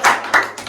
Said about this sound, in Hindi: दादा ताली बजाओ नहीं यार का दादा